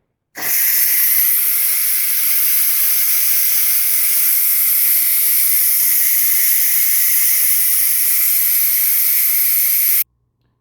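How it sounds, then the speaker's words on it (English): Steam pressure is released from a Ninja Foodi pressure cooker. A loud, steady hiss starts abruptly and holds at an even level for about ten seconds, then cuts off sharply, with no voices over it. "All right, that was 10 minutes. Let's release the pressure."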